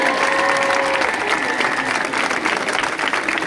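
Audience applause following a thank-you speech, a dense, steady wash of clapping holding at full level throughout, with a faint background tone fading early on.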